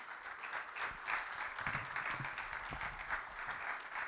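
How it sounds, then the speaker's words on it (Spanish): A conference audience gives a speaker a round of applause: moderate, even clapping from a seated crowd, somewhat distant and continuous. "le damos un cordial aplauso a Donaldo"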